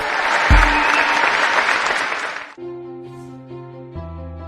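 An audience applauds to welcome speaker Mark Black onto a stage, with a burst of clapping that fades after about two and a half seconds as sustained music tones take over.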